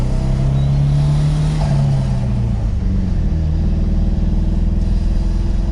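An Emme Lotus 422T's engine revs loudly to 4,000 rpm and holds a high, steady drone, a dense continuous rumble with a pitch shift partway through.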